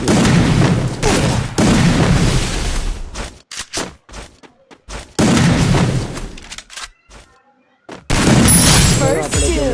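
Loud bursts of gunshots in the mobile shooter Free Fire, coming in several heavy clusters separated by near-silent gaps, with someone talking over parts of it.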